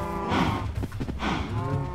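Cattle in Minecraft let out two loud, drawn-out moos back to back, close and clear with nothing else over them.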